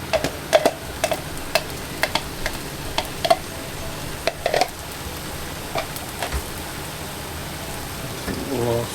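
A spoon stirring sauce through Singapore noodle stir-fry, giving scattered light clinks and scrapes against the pan over a soft background sizzle.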